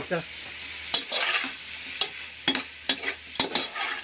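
Fish and shrimp sauté in oil in a pan under a constant sizzle. Repeated scraping stir strokes land about every half second to a second, close and fairly loud.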